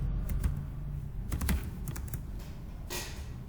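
Keys clattering on a computer keyboard as a pip install command for protobuf is typed, a steady run of close, fairly loud clicks with a few sharper strikes and no talking.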